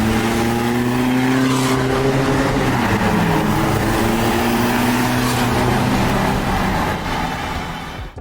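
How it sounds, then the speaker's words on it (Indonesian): Toyota Innova's 2GD-FTV diesel engine running, a loud steady rumble with droning tones that shift slightly in pitch, continuous throughout with no talking over it. "di dalamnya ini adalah mesin diesel 2 GDF-TV."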